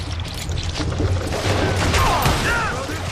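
Loud, continuous gunfire rattles through a shootout with a boss and his summoned henchmen in the video game Gunslinger, a dense barrage of shots with no quiet gaps.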